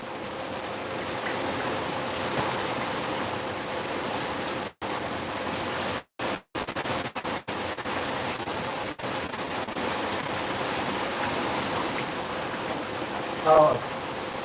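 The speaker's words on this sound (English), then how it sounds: "so the rain sound is a bit big, is it?" Steady rain falls as a dense, even hiss throughout, broken by several abrupt dropouts, with a brief faint sound near the end.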